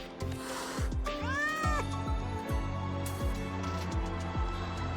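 A frightened cat in the game Wuthering Waves gives several rising and falling meows over steady background music.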